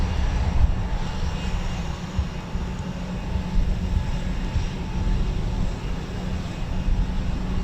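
A Eurofighter Typhoon FGR4 engine run at RAF Coningsby, heard as a steady, loud low roar and rumble that holds without letup, with no reheat surge.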